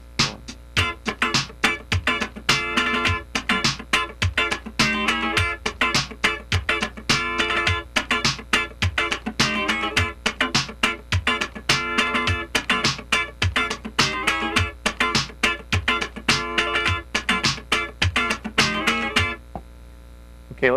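Funk rhythm guitar plays a two-bar pattern in G built on 16th-note triplets, choppy percussive strums repeating in a tight steady groove, alone with a faint mains hum underneath.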